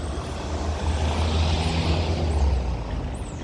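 Havaist airport shuttle bus at a stop in Taksim, Istanbul, its heavy diesel engine idling loudly nearby with a hiss of air brakes and passing traffic, no talking.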